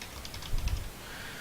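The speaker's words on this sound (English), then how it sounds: "Go ahead and type that in." A few quick clicks on a computer keyboard as a book title is typed in, a short soft burst of keystrokes clustered midway over quiet room tone.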